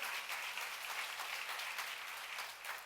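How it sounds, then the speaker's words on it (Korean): A church congregation applauds together during a sermon on the Book of Isaiah, a dense, steady wash of clapping that holds evenly for a few seconds with no voices over it. "하나님께 박수 한번 쳐요"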